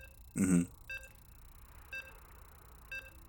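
Loading beeps in StarCraft 2, three evenly spaced short electronic tones about a second apart, clean and moderately quiet, preceded by a brief low burst of sound.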